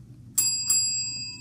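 A teacher rings a hand bell twice, two bright close strikes about a third of a second apart, with a long, clear ringing tail over faint room hum.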